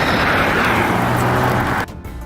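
A Bentley car accelerates hard and drives straight past on a golf course, a loud rising engine roar that builds and then drops away abruptly as it passes.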